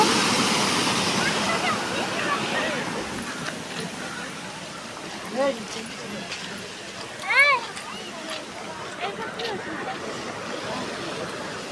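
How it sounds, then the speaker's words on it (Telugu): Steady rushing of flowing water fills the whole stretch, a continuous broadband wash with a few faint voices and brief tonal calls rising above it. "ఇక్కడ చూడండి వాటర్ ఎలా పోతున్నాయో అసలు"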